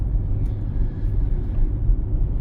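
Car driving along a driving-exam route in Korosten, a steady low engine and road rumble heard from inside the cabin, loud and continuous.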